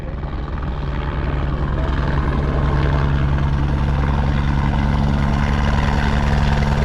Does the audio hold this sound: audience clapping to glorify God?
no